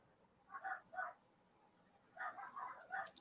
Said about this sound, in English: Some dogs going.